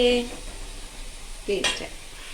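Ginger and garlic fry in a pan for crab curry while being stirred, giving a soft sizzle with a few brief scraping clinks, and a voice talks faintly over it.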